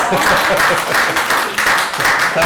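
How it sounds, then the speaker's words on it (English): Applause from an audience after a talk by a visiting Coptic Orthodox Christian professor, a short burst of many hands clapping in a room, moderately loud and steady, with faint voices mixed in. "let's give her a clap"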